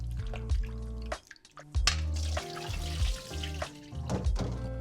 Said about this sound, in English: and then drain the water with a colander